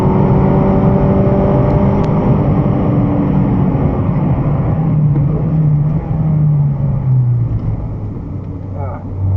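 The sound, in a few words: car driving at pace around a race track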